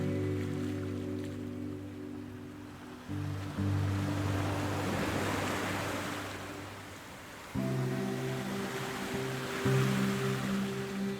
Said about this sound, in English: watching waves crash endlessly into the rocks below, the rhythm of it loud, certain, like a heartbeat that never forgets you